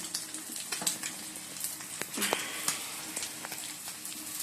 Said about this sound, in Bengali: আর ডিমটা একটু ভেজে নিচ্ছি, পোচ করছি